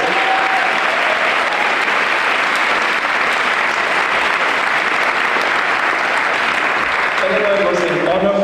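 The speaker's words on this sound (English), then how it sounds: "Please give a round of applause to Eleanor Seaman." Sustained audience applause at a class day ceremony honoring a teacher, loud and continuous clapping filling the room from start to finish.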